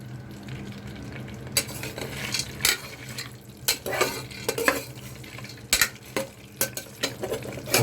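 Cashews and raisins fry in oil for a sweet pulao, a steady sizzle broken by irregular clinks and scrapes of a spoon against the pan.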